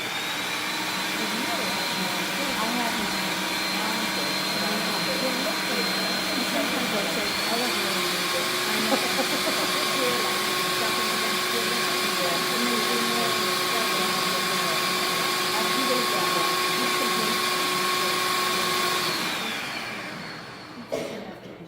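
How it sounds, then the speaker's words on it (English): A food processor whirs continuously for about twenty seconds while pureeing hummus, a loud steady motor whine that winds down at the end. "So you want to puree this enough so it's not chunky."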